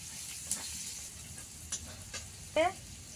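Onions fry in hot oil with five-spice seeds in an Indian village kitchen, a soft, steady sizzle with a few brief scraping stirs, fairly faint throughout.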